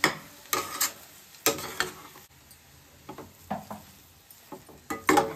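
Vegetables for matodi palya stir-fried in a generous amount of oil, with a soft sizzle under repeated scraping and clinking of a spoon against the pan in uneven bursts, close by.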